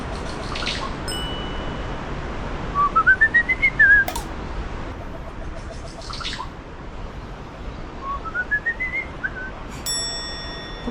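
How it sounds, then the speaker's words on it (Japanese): Birds calling in the forest near Machu Picchu: two clear rising whistled calls several seconds apart, with a few short bright chirps, over a steady outdoor background with no talking. "鳥の鳴き声がもう近い。"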